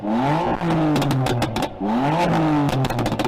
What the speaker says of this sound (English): the owner of that car has fitted a thing to make it pop and bang